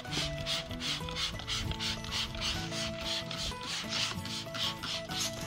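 Cloth wiping UV protectant off the hull of an inflatable boat, giving steady rhythmic rubbing and squeaking strokes that repeat quickly and stay close and fairly loud throughout.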